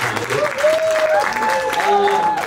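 An audience claps steadily at a song release event. The dense clatter fills the room, with voices and tones rising over it.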